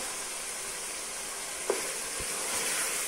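Tomatoes sizzle steadily in a hot pan for qeema gobi, a constant close frying hiss with a single soft knock partway through.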